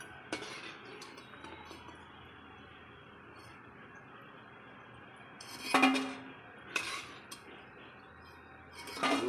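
Crispy fried chicken pakoras are lifted one by one from a pan, giving a few sharp metallic clinks and crackles with quiet gaps between them and no talk.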